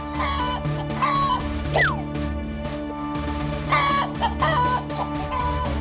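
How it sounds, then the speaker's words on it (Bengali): Cartoon hens cluck in a children's police cartoon, several bursts of clucking and a rising squawk over a steady music bed, close and fairly loud. "হঠাৎই তারা মুরগির ডাক শুনতে পায়"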